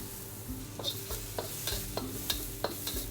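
Shallots and garlic stir-fried in oil for satay beef and glass vermicelli claypot: a soft steady sizzle with regular light scrapes and taps of a spatula against the pan, close by and fairly quiet.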